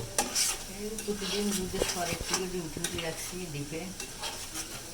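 Ghee is stirred and cooked down from milk cream in a pot, with a soft sizzle running under repeated scraping and clinking strokes of a spoon against the metal, close by and steady.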